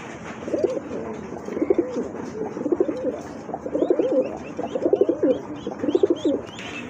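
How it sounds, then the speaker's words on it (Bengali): A pair of Danish pigeons coos in repeated rolling phrases, close and clear, with a faint background hum and no talking. "কোয়ালিটি সম্পন্ন এক জোড়া ড্যানিশ কবুতর"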